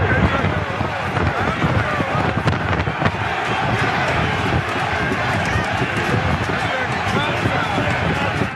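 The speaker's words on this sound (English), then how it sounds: "That is a crowd of Trump fans beating a cop with the pole that the American flag is hung on." A large, loud crowd of Trump supporters during a violent clash, a continuous dense roar of shouting voices and commotion that holds steady throughout with no pause.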